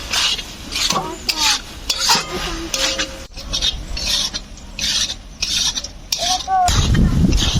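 Salt and ground chili paste sizzling in a hot pan at home while a spoon scrapes and stirs it, rasping strokes repeating unevenly, with a louder steady fry building near the end.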